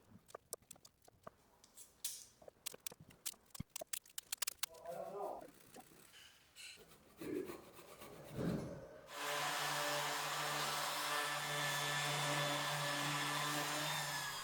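Scattered knocks and handling sounds, then a power sander starts up and runs loud and steady against a concrete hollow-body guitar body during post-processing for the last five seconds.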